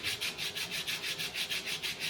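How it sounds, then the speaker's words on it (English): A silver eagle coin ring rubbed across a sanding block in quick, even back-and-forth strokes, about a dozen rhythmic rasping passes, close and alone. "I'm going to go ahead and take this sanding block"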